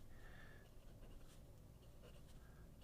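A Fude-style bent fountain pen nib, a number 5 nib on a Hongdian pen, scratches across paper in a quiet room, with a soft, continuous scratchy writing sound and small strokes that come through faintly and close up.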